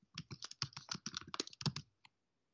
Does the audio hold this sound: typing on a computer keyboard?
yes